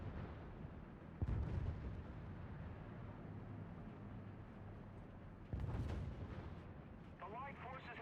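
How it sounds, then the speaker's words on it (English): Heavy artillery fire in a World War tank and aircraft video game, deep booming blasts with a rumbling background, two strong impacts standing out, a voice talking over part of it. "That's a lot of artillery"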